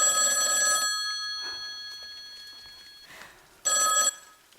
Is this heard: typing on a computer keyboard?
no